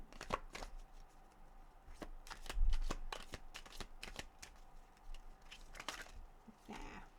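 Tarot cards are shuffled by hand in a quiet room, a run of crisp riffling flicks and soft slaps in uneven bursts, close and moderately quiet, with no talking.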